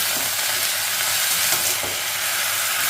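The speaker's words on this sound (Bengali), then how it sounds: "পুঁই শাকটা দিয়ে ভালো করে নেড়ে মিশিয়ে নেব।" Malabar spinach being stirred into a hot pan where a hilsa fish head has been fried, a steady loud sizzle with scraping stir strokes throughout, no talking.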